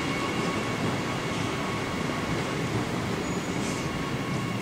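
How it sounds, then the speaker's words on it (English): Trains waiting in a rail yard in Adelaide send out a constant, dense mechanical rumble and hiss, steady and fairly close, with a faint thin squeal drifting through near the end. "trains are getting ready for the afternoon rush period."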